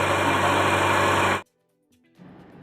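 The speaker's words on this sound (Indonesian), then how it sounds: "Jadi hati-hati pada saat ini engine hidup." A Toyota Starlet engine runs loud and steady for about a second and a half, then cuts off abruptly into near silence before a quieter, rougher noise returns.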